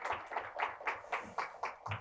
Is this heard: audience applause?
yes